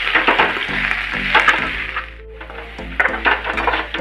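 Raw mango pieces sautéing in a pan with black masala, salt and coarsely ground coriander and fennel, giving a steady close sizzle with repeated clinks of a spoon against the pan.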